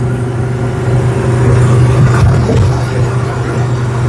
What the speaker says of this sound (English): This motor is definitely a lot healthier than the old one.